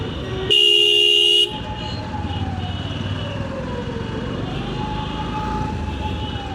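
A loud, steady car horn blast lasting about a second rings out near the start of a ride along a city road in Bangladesh, then gives way to continuous traffic rumble.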